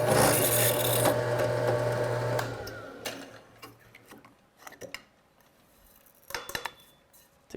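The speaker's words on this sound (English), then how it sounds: "Remove and drill." A drill bores holes in aluminum, with a loud whirring cut at the start that winds down around three seconds, followed by scattered metallic clinks and taps of parts being handled.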